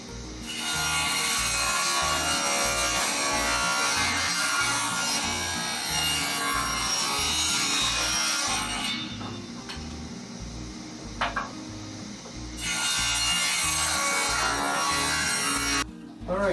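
Hemlock offcuts are hand-sawn into strips about 1.5 by 1 inch, a steady rhythmic rasp of back-and-forth strokes running close and loud, pausing briefly midway before resuming.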